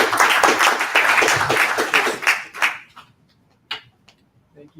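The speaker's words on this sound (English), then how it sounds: "Round of applause" Audience applause after a presentation at a data engineering meetup, loud crackling clapping for under three seconds that cuts off quickly, leaving a few scattered taps and small noises.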